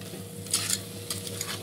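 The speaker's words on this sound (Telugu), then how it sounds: "కలిపేసుకోవాలి ఇలాగా" A spoon stirs mutton curry made with ginger, garlic and coconut in a hot pan, giving a few soft scraping strokes over a quiet, continuous sizzle, close by and fairly faint.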